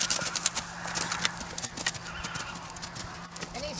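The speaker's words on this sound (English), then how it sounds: "So I'm going to canter on the outside," A horse canters in an arena, its hoofbeats a quick, rhythmic thudding that stays close and moderately loud for several seconds, with occasional scuffs and no talk.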